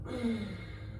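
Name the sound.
exhaling breath during yoga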